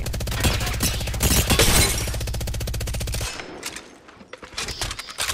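Rapid automatic gunfire from a high-capacity weapon in the battle-royale video game Apex Legends, a dense, loud stream of shots for about three seconds, then scattered bursts and impacts.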